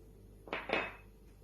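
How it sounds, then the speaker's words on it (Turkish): Cake batter with flour, cocoa, baking powder and vanilla being whisked in a bowl, heard as two quick, close, moderately loud scraping strokes against the bowl in a quiet room. "tekrar çırpıyoruz"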